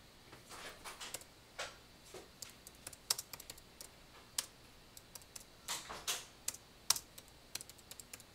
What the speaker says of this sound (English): I can't talk while I type